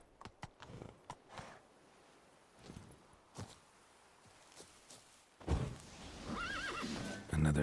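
Roach, Geralt's horse in The Witcher 3, gives short clopping hoofbeats and scattered thumps, then lets out a loud whinny near the end, heard close with no talking.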